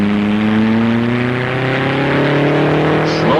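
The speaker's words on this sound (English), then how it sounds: "Phil Main raises the green starting flag, brings it down, and the car is away" A record car driven by Ken Miles accelerates away at Bonneville in 1956 with a loud, close engine whose rising harmonic whine climbs steadily in pitch as it gathers speed.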